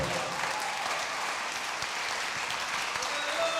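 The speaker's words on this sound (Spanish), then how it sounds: "Si vas a aplaudirle, apláudele fuerte." Church congregation clapping in praise, a steady broadband patter of many hands heard from a middle distance and continuing evenly throughout.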